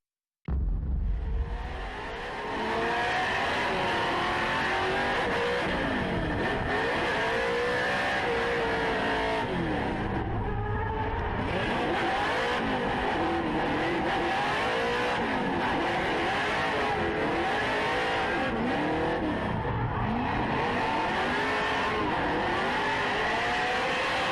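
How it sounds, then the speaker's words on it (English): A Formula Drift race car at Road Atlanta revs hard while warming up its tires on the way up a hill, a loud, sustained engine roar with rising and falling sweeps and a brief tire skid near the middle. "Gushi warming up his tires up to the top of the hill"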